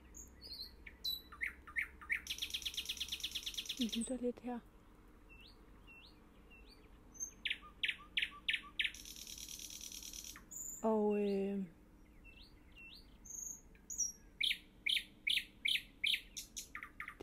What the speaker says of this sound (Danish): Det jeg hører, det er, at jeg sidder lige ved siden af en nattergal